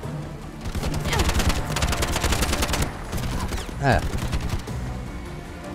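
Gunfire in the first-person shooter Bright Memory Infinite on Nintendo Switch: rapid bursts of automatic fire crackling through game sound, a pause, then another burst with a sharp whooshing effect, while a man briefly exclaims.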